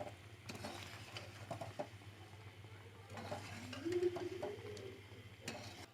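Amla murabba with cardamom and pink salt is stirred in a metal pot, giving quiet, irregular clinks and scrapes of a spoon against the pot, faint and close.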